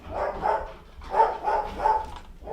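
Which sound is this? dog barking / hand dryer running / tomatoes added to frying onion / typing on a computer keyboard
dog barking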